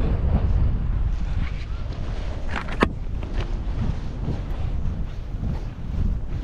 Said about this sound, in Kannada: ಸಣ್ಣ ಗಾಳಿ ಬೀಸ್ತಿದೆ